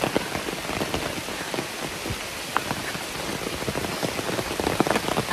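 Steady rain falls on a hiking trail, a dense, even patter of drops hitting the surface nearby, continuous and fairly loud with no voices.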